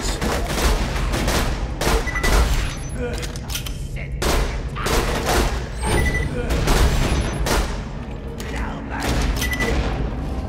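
Pistol fire from a Maliwan masher in Borderlands 2, loud repeated shots in uneven bursts amid game effects and someone talking throughout.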